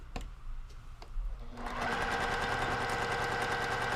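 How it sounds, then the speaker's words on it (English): A domestic sewing machine stitches down a quilt block, starting after a few faint taps and running steadily, close and loud, with a fast even whir to the end. "now I'm just going to stitch down. Take a couple stitches between and then keep going."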